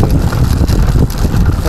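Strong wind buffets the microphone outdoors, a loud, continuous low rumble with gusty surges throughout.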